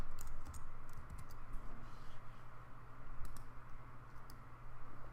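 A few sparse computer mouse clicks made while selecting and dragging shapes in Illustrator, faint sharp ticks spread over a low steady hum, close by with no talking.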